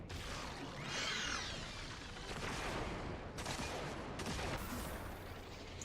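Machine gun fire in the shooter Destiny 2, a dense, continuous rattle of rapid shots, fairly faint and mixed with whooshes and crashes of combat, no voices.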